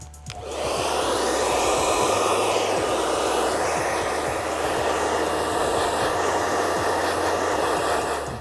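A hair dryer runs continuously at close range, a loud steady whoosh of blowing air, switched on at the start and held throughout while hair is blow-dried into a short 60s crop.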